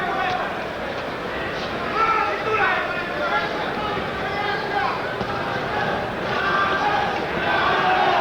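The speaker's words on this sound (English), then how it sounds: "Crowd starting to chant Chavez, Chavez." Boxing arena crowd chanting during the Julio Cesar Chavez vs Sammy Fuentes fight, a steady roar with rhythmic chant swells beneath a commentator's ongoing talk.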